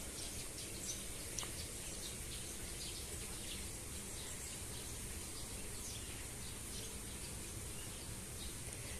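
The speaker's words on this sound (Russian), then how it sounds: "И щебет птиц." Faint bird chirps by artificial lakes at Sarzhyn Yar, set against a steady wash of outdoor ambient noise, with no one speaking.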